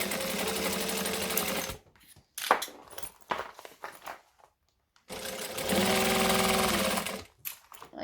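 A sewing machine stitches a curved seam in fabric, running in two steady bursts of rapid mechanical chatter separated by a quiet pause filled with small handling clicks and rustles.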